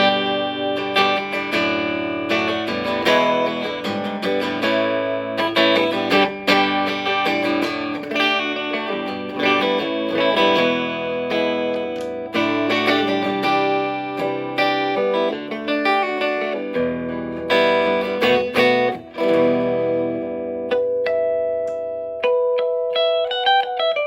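Clean electric guitar, an Epiphone Casino through a Marshall SL5 amp's clean channel with light reverb, strummed chords and picked notes ringing out, ending on a sustained chord that fades.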